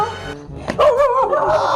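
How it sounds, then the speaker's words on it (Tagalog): A dog barks nearby with a few sharp yips that rise into a whining, high-pitched bark, loud and close, with no talking over it. "May aso sila, Bebang! Hay, may aso!"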